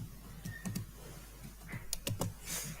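Typing on a computer keyboard during a DevOps command-line session, with scattered quiet key clicks and a few quicker presses, including backspace, heard close but faint over steady background hiss, with no talk.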